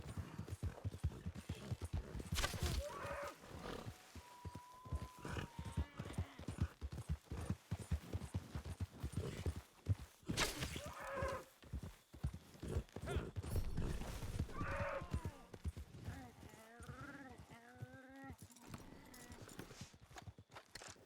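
Galloping horse hooves clip-clop steadily in a video game as a rider hunts deer on horseback with a bow, the rapid hoofbeats running continuously and close with an occasional whinny.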